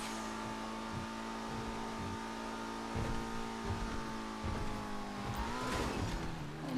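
ETR1 stunt car in GTA 5 accelerating hard from a respawn, a sustained engine whine climbing in pitch with bursts of road noise and a tire squeal near the end.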